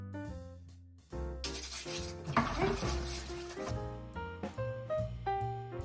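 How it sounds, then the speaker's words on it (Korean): Dishes being scrubbed with a detergent-soaked sponge, giving a steady wet rubbing and squeaking that runs through most of the stretch, with music playing underneath and no speech. "그릇을 씻어볼 텐데 그릇을 씻을 때도 순서가 있어요."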